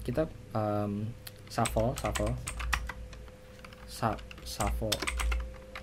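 A computer keyboard clicks in short bursts of keystrokes, close and crisp, mixed in with someone speaking Indonesian throughout.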